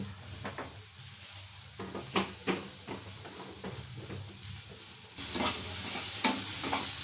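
Vegetables fry in oil in a pan and are stirred with chili powder added, a soft steady sizzle punctuated by repeated scraping strokes of a utensil, getting louder in the last seconds.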